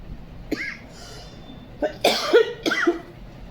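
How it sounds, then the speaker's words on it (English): A teacher coughs several times in a quiet classroom, short harsh bursts spread across a few seconds, close and fairly loud, with no speech in between. "I'm sorry about my coughing"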